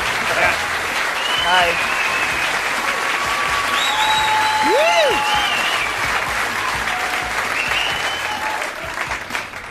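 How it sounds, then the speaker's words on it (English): Sustained, loud applause from a studio audience welcoming a guest, filling the whole stretch, with a brief spoken greeting heard over it. "I didn't want to step on your applause there"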